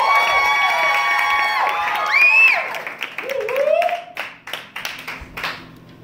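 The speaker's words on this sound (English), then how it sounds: "huge round of applause for the one and only" An audience applauds a spoken word artist, Darlin' Mikki, at a live poetry performance. Voices and tonal sound carry over the opening, then scattered claps and crowd noise come through, loose and uneven rather than a dense roar.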